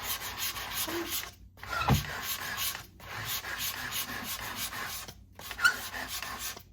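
Light, steady scraping and rubbing to remove paint from a mandala base, continuous with a few brief pauses and one sharper scuff partway through.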